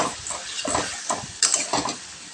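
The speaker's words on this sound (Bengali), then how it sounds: "মশলা ধোয়া পাতে সামান্য পরিমাণ জল দিয়ে আবার আমি কষে নিচ্ছি" A spice paste with a splash of water is stir-fried in a pan, giving a low crackle under bursts of scraping from a spoon against the metal. It is close and uneven, and no one speaks.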